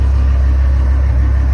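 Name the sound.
repaired vehicle engine running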